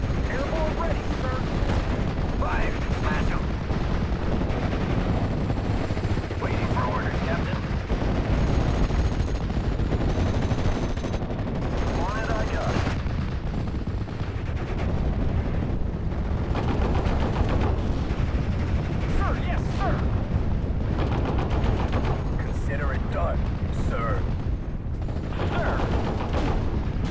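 Steel Division: Normandy 44 battle in Normandy hedgerows: continuous dense gunfire with machine-gun bursts and heavy artillery booms, loud and sustained throughout, with occasional voices under the din.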